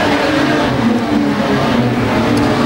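Street stock race cars roar around a dirt track, a loud sustained engine drone with shifting revving pitch, close and continuous, no speech.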